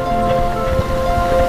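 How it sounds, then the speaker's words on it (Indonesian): Steady heavy rain falls during a muddy, slippery motorbike ride, a dense close hiss under the low rumble of the bike with no talk. "ini hujan bro, bukannya gerimis"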